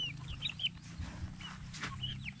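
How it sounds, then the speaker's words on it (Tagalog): Black chickens cluck softly nearby at a Filipino house construction site, with scattered short clucks and chirpy calls over a low background hum. "Marami-rami na yung manok ko."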